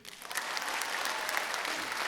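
Steady applause from an audience, many hands clapping at once, filling the whole moment without a break.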